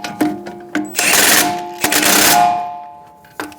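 Impact gun with a socket snugging down the brake dust shield nuts on the front brakes of a 2007-2011 Toyota Camry, heard as two loud close bursts of rattling hammering with short clicks before and after.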